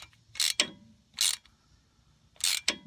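A ratchet tightening bolts on a 2010 Nissan Versa ABS sensor, three short bursts of close, crisp clicking separated by pauses.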